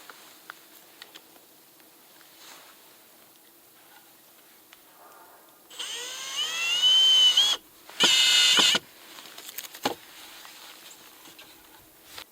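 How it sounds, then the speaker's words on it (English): A power drill drives screws into the wooden legs of a beehive stand: two loud whirring bursts with rising motor pitch, surrounded by quieter handling clicks and knocks. "And I'll run some screws through both legs."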